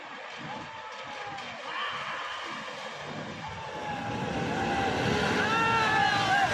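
A jeep driving over a rough road in Kerala, its engine rumbling and the body rattling over bumps, growing louder toward the end as it climbs, with people talking over the ride.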